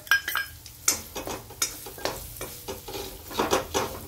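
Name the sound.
stirring spices into mashed potatoes in a pan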